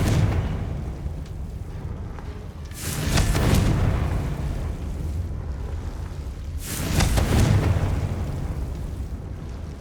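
Blasting-spell explosions from Confringo in Hogwarts Legacy: two loud, broad booms a few seconds apart, each swelling and rumbling away over a steady low background.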